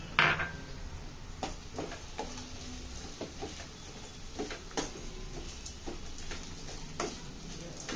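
A spoon scrapes and taps against a cooking pan as chilli powder, salt and spices are stirred in for a poppy seed curry. The clicks and knocks come irregularly and fairly quietly, with a brief sizzle-like burst at the start.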